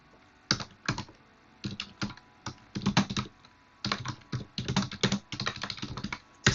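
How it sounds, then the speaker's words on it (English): Someone types on a computer keyboard in irregular bursts of crisp, close key clicks, with short pauses between flurries and no talking. "so I typed something in the comments bit"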